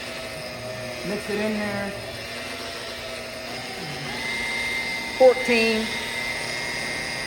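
Rotary polisher at about 1,000 RPM buffing candy blue paint on a 1984 C10 stepside, a steady whirring motor tone that shifts in pitch under load, close by, with someone talking over it.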